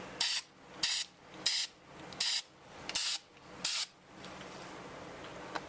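Six short bursts of aerosol spray paint hiss in steady succession while painting a 2004 Volvo XC90 key fob, each about half a second long, with brief quiet gaps between them.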